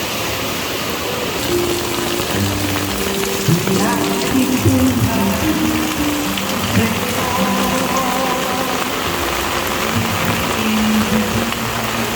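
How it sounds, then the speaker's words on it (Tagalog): Heavy rain pours steadily, a dense hiss of drops drumming on surfaces, with faint low tones and a murmur underneath. "Maulan na gyud, grabe, nga ulan"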